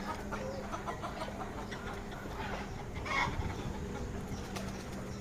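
Guinea fowl and chickens cluck and call in a poultry yard, a busy, moderately distant chorus of overlapping bird sounds with one louder call midway.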